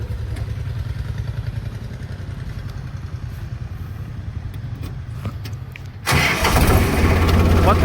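A tractor engine is started on a farm. A low, pulsing rumble runs for several seconds, then the engine catches with a sudden louder burst and keeps running close by.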